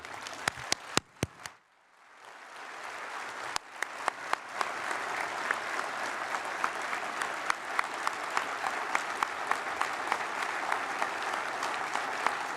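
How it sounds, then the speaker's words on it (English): Audience applause for a speaker at a legislative gathering, a few sharp isolated claps first, then a brief lull before a full, steady wash of clapping that carries on evenly, with individual louder claps popping out. "I'd like you to give Robin a big round of applause"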